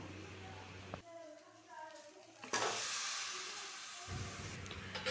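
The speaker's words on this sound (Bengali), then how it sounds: "মাংসটা দিয়ে আরও কিছুক্ষণ ধরে ভাজবো" Chicken pieces frying in a spiced masala for a Bengali chicken curry, a steady sizzle and hiss from the pan that jumps louder midway as the food is stirred, with someone talking over it.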